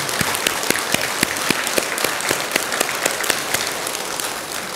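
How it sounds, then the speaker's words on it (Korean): A hall audience at a Saturday Buddhist dharma service at Bulgwangsa temple gives steady, moderately loud applause, dense clapping sustained evenly without voices. "큰 박수 한번 보내주시기 바랍니다"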